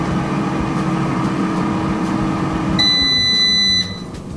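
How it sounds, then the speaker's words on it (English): GoWise USA air fryer timer: a single sustained electronic beep of about a second cuts in over the appliance's steady fan hum, then stops. "I'm guessing the timer's done."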